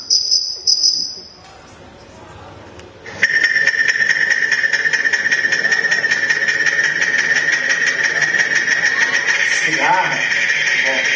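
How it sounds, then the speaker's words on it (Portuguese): A cicada buzzes loudly and steadily in a high, continuous whine. Before it starts there is a short stretch of other noise in a lecture hall setting. "Cigarra."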